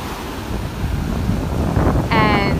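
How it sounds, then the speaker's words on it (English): Rough surf crashing onto a beach the morning after a storm, a continuous loud wash of breaking waves with heavy wind buffeting the microphone and no talk. "the waves are crazy"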